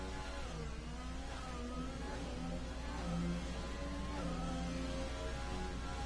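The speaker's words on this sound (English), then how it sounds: "You can really hear the grip he doesn't have on the rear tyres" A race car engine whines and revs at Monaco in a racing video game, with the car struggling for rear tyre grip. A steady, moderately loud engine drone runs throughout, its pitch shifting as revs rise and fall.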